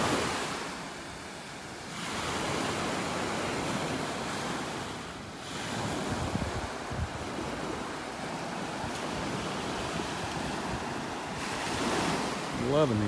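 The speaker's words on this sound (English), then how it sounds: "Loving these waves." Ocean surf breaking and washing steadily onto a beach in North Naples, Florida, a continuous loud roar with swelling waves and wind buffeting the microphone.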